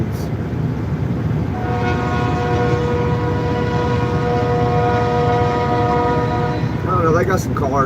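A train rumbles loudly close by while its horn blares in a long sustained chord, followed by a voice speaking over the rolling noise.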